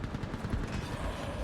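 Rapid bursts of mounted gun fire in the video game Mass Effect 3, a dense, continuous rattle of shots at fairly loud level with no voices over it.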